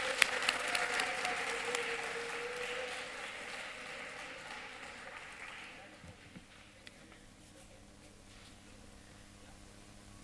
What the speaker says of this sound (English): Let's give a big round of applause to our 7 to 8 age category.